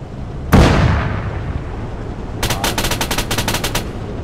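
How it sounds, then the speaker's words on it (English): Gunfire in a military video game with helicopters and jets: a single heavy boom or cannon blast rings out, then after a pause a rapid burst of automatic machine-gun fire rattles in quick repeated shots. "can you see that there's shooting coming in that direction there?"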